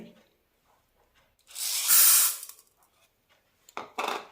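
Green gram (mung beans) are washed in water: a loud rushing splash of water swells for about a second, then fades, and a shorter double splash follows near the end.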